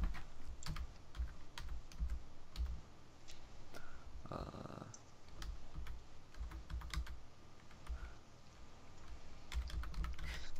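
Steady clicking of keys on a computer keyboard during a late-night Survival Island gaming session, a close, busy patter of keystrokes with louder thumps throughout and no talking.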